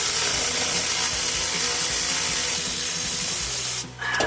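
A harmonic balancer puller works on a '65 Mustang engine, giving a close, steady gritty grinding and scraping mechanical noise that runs continuously for about four seconds before briefly dropping off.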